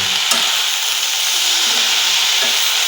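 Red amaranth greens being stirred in a frying pan give a steady, close sizzle with soft scraping strokes throughout, loud and continuous with no talking.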